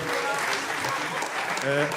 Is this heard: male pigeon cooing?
no